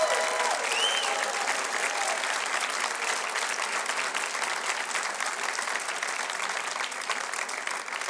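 An audience gives a big round of applause for a live country band on a televised show, dense clapping sustained evenly for about eight seconds, with a brief whistle near the start.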